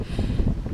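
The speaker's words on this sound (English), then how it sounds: "Hopefully the wind's not going to ruin this sound too much." Wind buffets the microphone on a cold rural trail through farmland, a loud low rumbling gust that fills the short moment.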